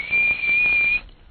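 A train whistle sound effect plays on a radio talk show: one steady, high, thin tone held for about a second, loud and alone, then cut off.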